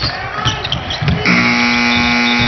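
A loud, steady basketball shot clock buzzer sounds partway through and holds to the end, following the thud of a bouncing ball and arena noise during a Marquette vs Wisconsin game.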